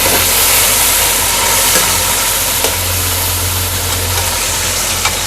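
Tomatoes drop into a pan of frying onion and garlic-ginger paste, giving a loud, steady sizzle and hiss that carries on without pause, with no voices over it.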